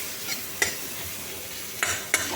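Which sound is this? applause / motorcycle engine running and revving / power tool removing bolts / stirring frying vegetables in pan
stirring frying vegetables in pan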